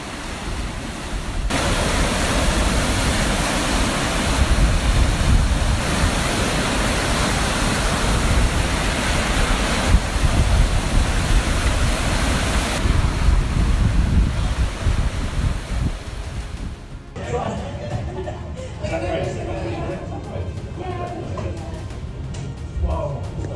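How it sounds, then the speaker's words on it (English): Violent waves slam against a Michigan lighthouse in a storm, a loud, continuous roar of surf and wind buffeting the microphone. The roar drops to a thinner, broken wash near the end. "Violent water slammed into the Michigan lighthouse like repeated blows from nature spiraling out of control"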